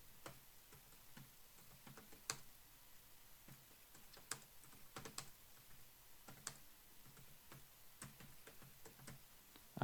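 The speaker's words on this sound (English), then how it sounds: "So I'll go ahead and type that." Typing on a computer keyboard while entering a chart title, with quiet close key clicks in irregular bursts and a few louder taps, alone with no talk.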